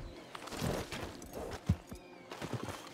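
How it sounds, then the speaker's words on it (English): Video game horse hooves clip-clop unevenly at a slow walk inside a saloon, with a few sharper hoof strikes standing out over a soft, muffled background. "There's a civilian on a horse inside the saloon."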